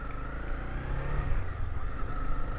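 Motorcycle, likely a small-displacement or DCT bike, ridden at steady speed with a continuous mid-pitched engine drone and road rumble, moderately loud with no talking.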